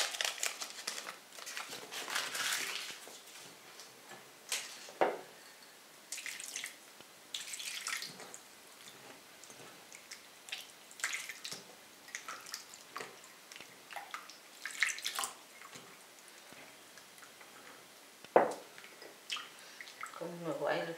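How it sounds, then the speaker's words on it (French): Baking powder is stirred into a small amount of water with a spoon, giving soft liquid swishes, light drips and occasional clinks of metal on a bowl, quiet and close, broken by short pauses. "on va commencer par délayer la levure chimique dans de l'eau"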